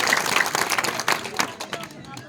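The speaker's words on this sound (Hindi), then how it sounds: "आप सभी जो है तालियों द्वारा स्वागत करें।" A crowd claps to welcome a guest at a village gathering, a short burst of dense applause that tapers off.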